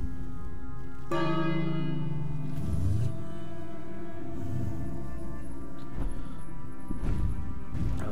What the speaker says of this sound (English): Let's try the bell.